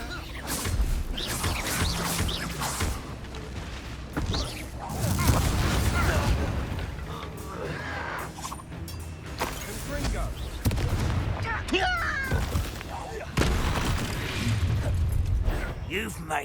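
Explosive Confringo spell blasts in Hogwarts Legacy combat, heavy booming bursts amid clattering battle effects, with shouted voices and spell incantations over the fighting.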